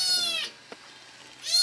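A little cat being washed in water gives two drawn-out, plaintive meows separated by a short pause, close and fairly loud, with a small splash or tap between them.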